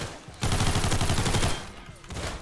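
Unsuppressed MAC-10 fire in the Roblox game Criminality: a rapid, loud, close automatic burst of densely packed shots lasting about a second, then fading, with a brief second burst at the end.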